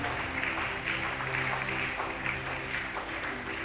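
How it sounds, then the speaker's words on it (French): A church congregation clapping together in steady, dense applause that holds evenly at a moderate level throughout, with no break. "Clap your hand for them."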